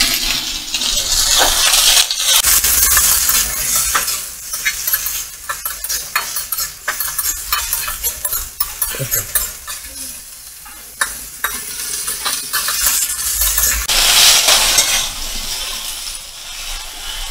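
Round slices of ridge gourd are stirred and turned in a hot frying pan, giving a steady sizzle with repeated spatula scrapes and clinks that carry on alone throughout.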